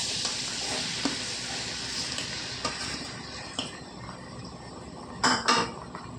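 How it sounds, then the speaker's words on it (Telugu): Three large onions hit hot oil with green chillies, turmeric and salt, giving a continuous sizzle. Spatula scrapes and metallic clinks against the pan break through at intervals. "ఉల్లిపాయలు వేసేసుకుందామండి."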